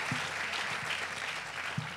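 A seated audience at an Indonesian panel talk applauds in a steady, fairly distant patter of many hands that keeps even throughout the clip.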